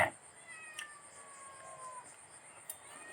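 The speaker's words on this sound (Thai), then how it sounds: "แมวหอมอยากกินทันทีเลย" A cat meows for turmeric fried fish, its thin, drawn-out cries faint against a quiet room, with a couple of brief sharper calls near the start and end.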